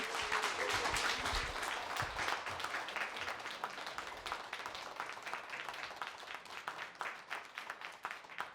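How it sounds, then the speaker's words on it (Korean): Audience applause at a year-end talk concert, dense clapping from a crowd, loud at first and gradually thinning out over several seconds. "큰 박수로 부탁드리겠습니다"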